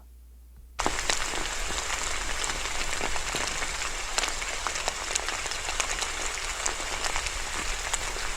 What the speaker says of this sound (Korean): 마지막으로는 조용한 봄비 소리도 생각이 났어요